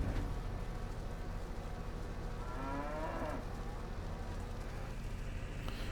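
Over a constant low engine drone, a single cow in a farm pen lets out one clear, sustained moo midway through, then only the machine hum carries on.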